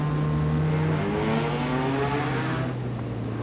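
Engine of a new Mazda MX-5 Cup race car, loud and close, droning steadily with a strong low rumble and a slowly shifting pitch while the car runs at speed.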